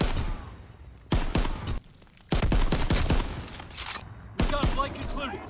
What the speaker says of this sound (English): I'm showing gameplay of me beasting with the M1 Grand in the World War II beta